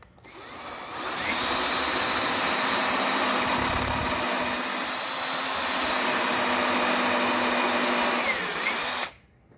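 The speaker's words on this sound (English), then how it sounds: "I'm going to drill the other hole" Close, loud power drill spinning up and grinding a hole through a wooden cigar box for several seconds at a steady pitch before cutting off.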